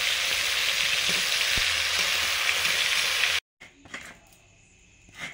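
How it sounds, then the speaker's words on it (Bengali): Eggplant slices frying in hot oil for a festive home meal: a dense, even sizzle holds for about three seconds, then cuts off abruptly, leaving faint clinks and a low rumble. "এই সব ওল সেদ্ধ করার পরে বেগুন ভাজাটা করছি"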